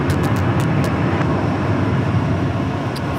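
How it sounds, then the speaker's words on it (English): American Airlines Boeing 737 airliner at Phoenix Sky Harbor, a steady broadband jet roar that stays loud and constant across the whole stretch, with a few faint clicks on top. "There we have American Airlines from Chicago O'Hare."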